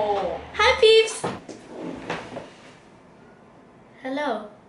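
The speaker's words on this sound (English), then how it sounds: "Wait, let's close the door." A room door is closed in a shared bedroom on a hot day, giving a couple of short knocks and thuds amid brief bursts of talking.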